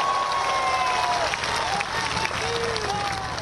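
A large crowd claps at Rajnath Singh's political rally in Balurghat, Bengal: loud, sustained applause with scattered whistles and calls rising above the clapping.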